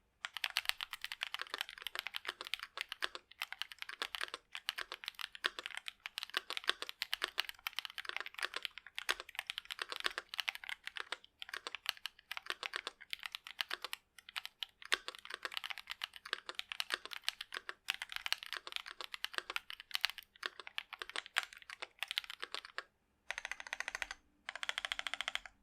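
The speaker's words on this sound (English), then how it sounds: "Let's find out how this keyboard sounds." Steady typing on a Keychron Q2 65% mechanical keyboard gives fast, close clacks in a continuous flurry, with a few brief pauses and heavier key strokes near the end and no voices.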